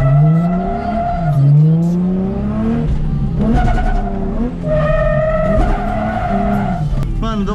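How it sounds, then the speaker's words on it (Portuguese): A drift car on a track spins its tires to warm them, loud screeching tire squeal with rising and falling engine revs close by, repeated in several surges. "Eu vou dar uma esquentadinha nos pneus, mano."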